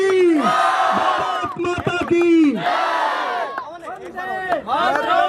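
A large crowd at a boxer's welcome event roars a patriotic "Bharat Mata ki Jai" slogan in loud, sustained unison bursts, with sharp claps and cheers punctuating the chant between swells.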